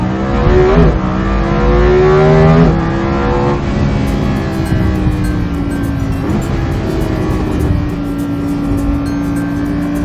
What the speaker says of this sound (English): you have the active exhaust opening the loud valves almost immediately when you hit the throttle